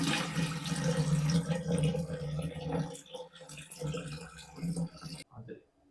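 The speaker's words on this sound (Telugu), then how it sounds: "నెక్స్ట్ వచ్చి కొన్ని వాటర్ అయితే వేసుకుందాము" Water poured into a bowl while mixing Ugadi pachadi at home, a continuous splashing pour up close that runs steadily, then tapers off before stopping.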